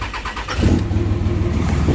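A vehicle engine test start after a repair following a turbo failure: a short cranking chatter, then the engine catches into a loud, steady, rumbling idle close by.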